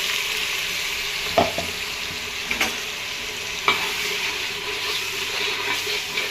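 Onion frying in oil with bay leaf and cumin, a steady close sizzle broken by occasional sharp clinks and scrapes of a spoon stirring the pan.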